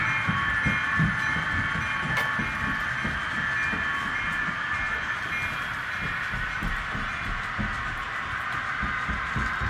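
A steady diesel engine rumble from an Athearn SW1500 model locomotive with a Tsunami II sound decoder, droning whine and faint rhythmic clatter throughout, small-scale and unvarying, with no talking.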